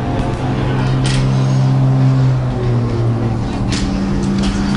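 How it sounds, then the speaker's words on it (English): A 2CV race car pulling away from its pit stop during a 24-hour endurance race, a loud, close, buzzy engine drone that rises in pitch as it accelerates, heard alone. "64 2CV gets back going after its stop."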